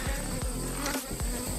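Honey bees buzz around a hive, a dense continuous drone with individual bees passing close by.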